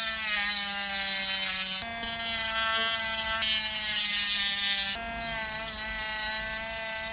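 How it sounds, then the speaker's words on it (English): A cutting disc runs across a halo light ring to flatten and sand it down, giving a loud, steady, high-pitched whine close by. The whine drops away briefly twice, then resumes. "I was just going to take this cutting disc and just run it like that and flatten it out."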